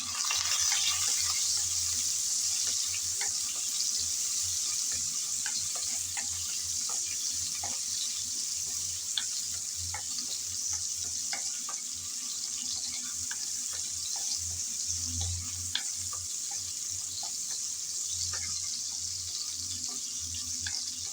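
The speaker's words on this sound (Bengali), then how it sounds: "কিছুক্ষণ নেড়ে চেড়ে চিংড়ি ভেজে নিলাম" Shrimp seasoned with salt and turmeric fry in lightly heated oil, giving a steady, even sizzle and hiss that runs throughout with no voices.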